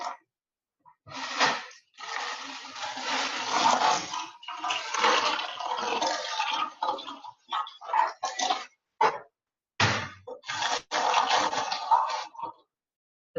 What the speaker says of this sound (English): Now we're going to pour a layer of ice across the top of the bag.